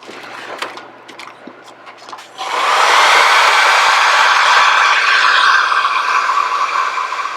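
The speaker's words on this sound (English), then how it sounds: "you're going to go ahead and you're going to blow dry that" A hair dryer switches on after a few light clicks and handling noises, then blows loudly and steadily up close to dry a thin coat of gel medium for an image transfer.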